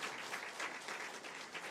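Audience applause at a church revival meeting, a steady wash of clapping that runs briefly and fairly quietly without pause.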